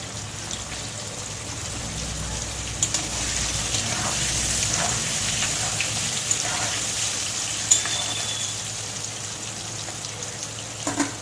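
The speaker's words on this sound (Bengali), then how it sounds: "আলুগুলো একটু লাল লাল করে ভেজে নেব।" Boiled potatoes fry in oil with salt and turmeric for a green-banana kofta dish, making a continuous close sizzle with occasional sharp spits and pops and no speech.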